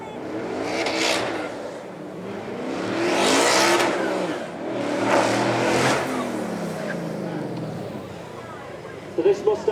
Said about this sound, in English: Glorious V8 soundtrack in the front of that car, shaped like a bullet coming up the hill there